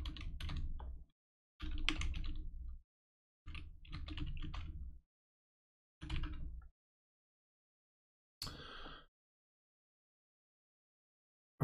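A computer keyboard is typed on in several short bursts of rapid clicking separated by silent pauses, close and fairly quiet, with a single keystroke near the end.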